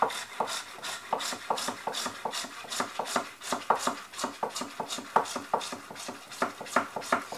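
A phonograph record blank having its end trimmed under very light pressure, giving a steady run of soft, close rasping scrapes in an even back-and-forth rhythm, alone without talk.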